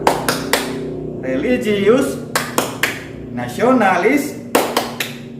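Rhythmic clapping in the tepuk PPK chant, sharp claps in short groups alternating with a voice chanting the words, repeated in a regular pattern.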